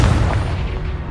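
Confringo blasting spell in Hogwarts Legacy, a loud, close booming explosion that hits at once and rolls off in a dense low rumble.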